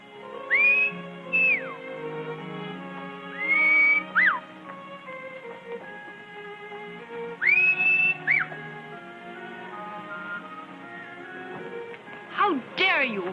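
Several short rising-and-falling whistles ring out in separate bursts over a steady bed of music, with a quick flurry of whistled notes near the end.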